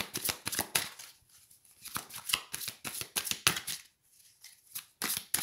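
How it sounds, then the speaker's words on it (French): Tarot cards shuffled by hand in a French card reading, quick riffling bursts and soft slaps in an uneven rhythm, close and moderately quiet with short pauses between, no talking. "Allez, on va prendre d'autres cartes pour avoir des compléments d'information."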